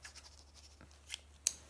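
Scissors snip a few times, faint and close, with soft scraping before a sharper final snip in a quiet room.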